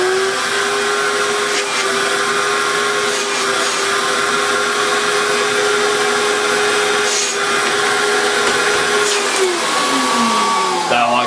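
A cheap Goblin Rio 1000 vacuum cleaner runs with a steady, loud motor whine and airy rush that holds throughout, its pitch dropping slightly near the end.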